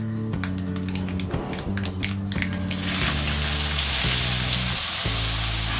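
Cooked chawli (cowpea) leaves dropped into hot oil tempered with asafoetida sizzle loudly, with steady frying hiss swelling after a few seconds alongside light spoon taps and stirring under background music.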